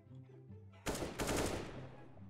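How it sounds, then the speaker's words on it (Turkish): A short volley of a few gunshots rings out in CS:GO, sharp loud cracks fired in quick succession after a quiet moment, trailing off into faint background tones. "4 tane mermi attım"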